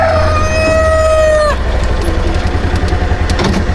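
A long, high crow rings out loud and close, then gives way to a busy murmur of clucking meat chickens in a chicken tractor over steady background noise.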